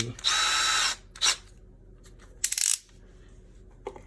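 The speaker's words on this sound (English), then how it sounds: "now we're going to use the drill to flip the" A power drill whirs close by in short bursts, one long run then two brief pulses, with quiet pauses between, as it flips the mounting ears of an electrical outlet box to anchor it in a wall.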